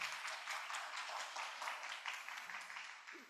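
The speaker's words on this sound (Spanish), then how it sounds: "Un fuerte aplauso." Seminar attendees applaud, a soft, distant wash of many hands clapping steadily throughout, fairly faint and without talk over it.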